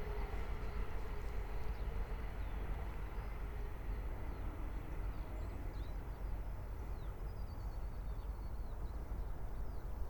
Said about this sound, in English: 700 138, working a Thameslink service from Brighton to Cambridge.